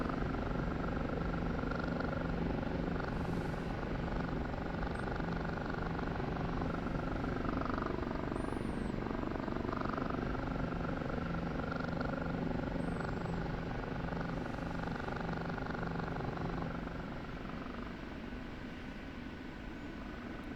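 An OH-58D Kiowa Warrior helicopter flies in the DCS flight simulator game, a steady rotor and turbine drone holding constant and fairly quiet throughout, easing slightly toward the end with no talk over it.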